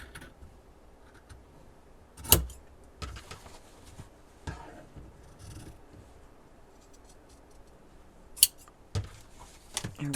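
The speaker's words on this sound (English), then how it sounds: "So I'm just going to go ahead and cut my corners" Scissors snip the corners of a journal cover in a few sharp, close cuts spread between quiet stretches, with light handling clicks and no talking.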